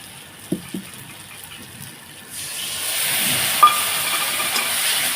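Water mixed with chilli, turmeric and salt hits a hot frying pan and bursts into a loud, steady sizzling hiss after a quiet start with a couple of soft clinks. It keeps hissing strongly to the end.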